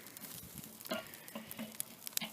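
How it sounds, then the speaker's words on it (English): Steaks sizzle on a grill as tongs flip them over: a soft, steady hiss with scattered pops and a few light metallic clicks from the tongs, fairly quiet and close. "I'm going to use the handy dandy tongs, and I'm just simply going to flip them over"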